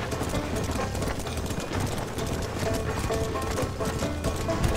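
Horse hooves clip-clopping in the video game Red Dead Redemption, a quick uneven patter of steps under a busy background of game sound, fairly soft and continuous.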